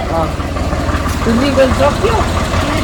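A motorcycle, freshly brought in and washed for a Vishwakarma puja gathering, idles with a steady low rumble close by, while people talk over it.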